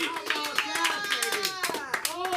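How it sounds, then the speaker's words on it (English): Audience applause for a comedy headliner at an LA open mic, brisk clapping mixed with cheers and voices, steady and fairly loud throughout. "get a warm hand of applause for your headliner"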